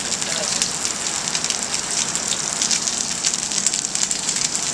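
Snapper and salmon fillets sear skin-side down in a hot pan with a loud, continuous, crackling sizzle that stays constant from start to finish.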